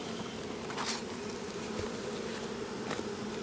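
Bees from a relocated swarm buzz in a hive being treated with mite strips, a steady close, dense hum throughout with no talking.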